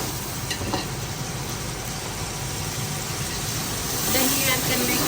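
Yogurt and a splash of water hit a hot pot of chickpea pulao base, giving a loud, steady broadband sizzle that runs the whole time and swells briefly near the end.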